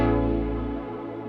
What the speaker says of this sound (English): Without the mod matrix, the chords sound like this